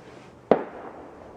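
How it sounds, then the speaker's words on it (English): A single firework bursting outside, one sharp bang with a short rumbling tail, moderately loud and somewhat distant against quiet surroundings. "oh, fireworks."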